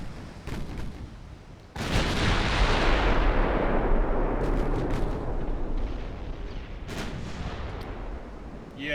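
Six-inch naval guns open fire in the video game Ultimate Admiral: Dreadnoughts, with a heavy booming salvo that rolls into a long fading rumble, plus a few sharper distant reports before and after.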